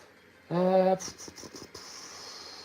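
An airbrush sprays paint onto a Warhammer miniature in a steady, close hiss that runs for well over a second with a brief break, just after a short voiced sound.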